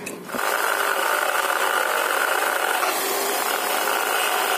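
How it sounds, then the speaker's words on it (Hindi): A drill machine grinds down a thick motorcycle handlebar part for a clip-on handlebar swap on a Pulsar 150. The grinding starts with a sharp onset and then runs as a steady, loud, continuous whine without a break. "इसको मैं ड्रिल मशीन में लगा करके और इसकी घिसाई कर दूंगा"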